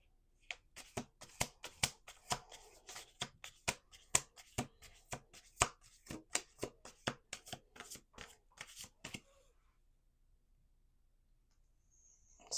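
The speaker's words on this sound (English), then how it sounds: "Let's do 2 more shuffles." A deck of cards is shuffled by hand in a quiet room, a rapid series of about twenty sharp riffling snaps and slaps close by, then near silence for the last few seconds.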